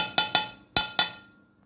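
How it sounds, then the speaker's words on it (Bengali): A stick mixing jhalmuri puffed-rice mix in a bowl knocks against the rim four times in two quick pairs, each a bright ringing clink that fades out in the quiet. "এখন একটা কাঠির সাহায্যে এগুলোকে মিশিয়ে নিচ্ছি"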